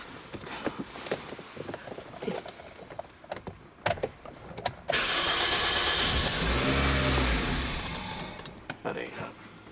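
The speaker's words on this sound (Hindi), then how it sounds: "अब गाड़ी को एक बार क्रैंक करूँगा।" A car's starter cranks the engine during electronic control module transistor and driver fault testing, a loud steady churning burst of several seconds after clicks and handling noises, with someone talking before it.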